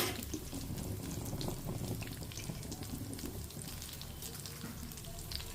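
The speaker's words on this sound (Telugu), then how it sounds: "చూడండి ఇవి వేగుతున్నాయి ఎండుమిర్చి పచ్చిమిర్చి కొంచెమే ఉందన్నమాట పుదీనా" Dried red chillies, green chillies and mint leaves frying in hot oil, a steady soft sizzle with faint crackles running throughout.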